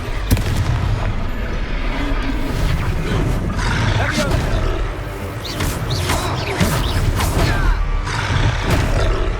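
Confringo fire spell blasting in Hogwarts Legacy combat, a run of loud booming bursts and crackling impacts amid battle noise, with shouted voices over the explosions.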